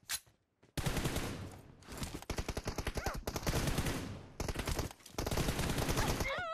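Rapid bursts of automatic gunfire in the PUBG Mobile battle royale game, loud and close, firing in several strings of shots separated by short pauses.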